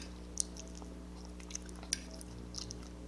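Soft, wet chewing of mashed potatoes and sautéed spinach up close, with occasional small squishy bites over a steady low hum.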